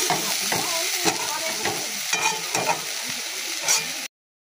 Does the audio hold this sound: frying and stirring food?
yes